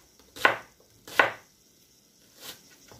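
An onion being chopped with a knife on a board, three sharp close cuts, the first two in quick succession and a softer third after a pause, with no talk.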